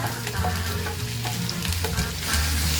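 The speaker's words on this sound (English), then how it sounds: "Then stir fry." Vegetables for spicy noodles stir-fry in a hot pan, a dense, close sizzle with scraping stirs throughout and no talk.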